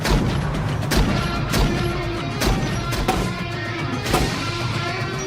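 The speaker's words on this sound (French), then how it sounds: "Tiens, encore une explosion pour ton film, Danny." A run of sharp booming blasts, about half a dozen, spaced irregularly over a rumbling background, loud and close.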